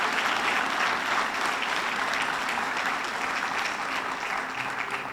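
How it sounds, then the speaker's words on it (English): Sustained audience applause at a police department annual awards ceremony, dense steady clapping filling the room throughout without a break. "you give them all a round of applause"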